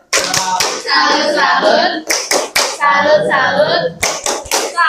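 Students in a class perform the 'tepuk salut' patterned clapping routine, sharp synchronized claps in rhythmic groups alternating with short chanted words from the group.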